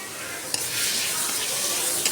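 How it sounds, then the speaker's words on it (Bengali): Spices fry in a pan with a steady, close hiss and sizzle and a couple of faint clicks from stirring, with no talk. "2-3 মিনিট একটু ভেজে নেব।"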